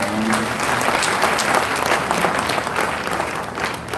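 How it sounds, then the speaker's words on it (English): An audience applauds for a senator at a public speaking event, loud, continuous clapping that swells and holds for several seconds. "When I clap for our senator."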